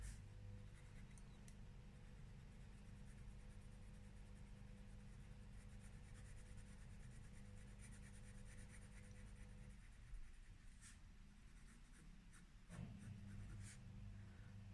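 Colored pencil shades a first layer onto Canson paper of about a hundred grams, a soft, steady scratchy rubbing that continues close and quiet, with a brief pause near the end.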